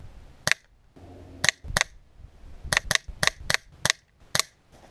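A BSA Scorpion air pistol firing a series of shots, about ten sharp close cracks at irregular intervals, some in quick pairs, with quiet handling noise between and no talk.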